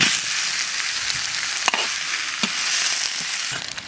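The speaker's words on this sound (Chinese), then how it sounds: "切好的猪肉直接上锅炒。 先炒肥的，锅里不用倒油。" Fatty pork pieces stir-fried in a dry wok with no added oil, a steady loud sizzle broken by a few sharp scrapes of the spatula against the pan, with no voices.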